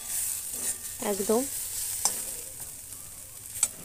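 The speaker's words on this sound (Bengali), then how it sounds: "আমার এটা প্রায় ভাজা ভাজা ভাজা ভাজা হয়ে গেছে" Suji (semolina) khasta snack frying and being stirred in a pan, with light scraping and soft sizzle, a few brief clinks; a person speaks a single word briefly.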